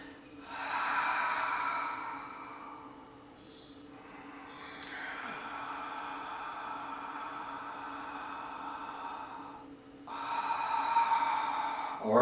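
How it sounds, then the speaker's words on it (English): Slow paced breathing up close, long drawn breaths in through the nose alternating with airy, extended exhales through the mouth, repeated in an even calm rhythm with no talk. "inhale through the nose, but continue to exhale through the mouth"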